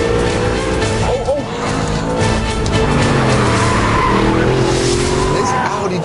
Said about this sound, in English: the engine response is magic, and it sounds so good as well